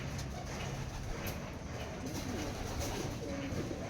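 Racing pigeons back from a training flight, with soft cooing and bird calls over a continuous background rumble, fairly faint and close.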